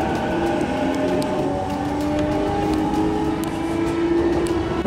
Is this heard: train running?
yes